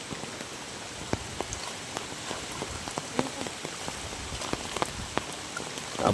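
Steady rain patters on surfaces outdoors in a farm field near banana trees, a dense hiss punctuated by sharper individual drops, with no voices.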